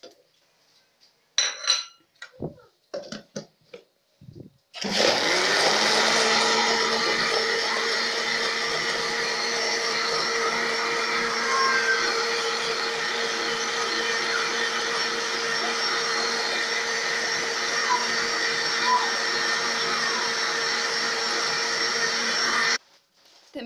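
A few clinks and knocks, then a blender blending chopped lemons roars on loudly and runs steadily for several seconds before cutting off abruptly.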